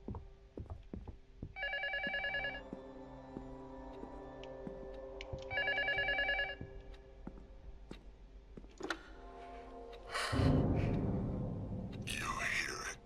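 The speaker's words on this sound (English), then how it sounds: "The phone keeps ringing." A telephone ringing in the horror game LUTO: two bursts of an electronic ring, several seconds apart, heard over quiet ambient tones, followed by a louder rumbling swell and a hiss near the end.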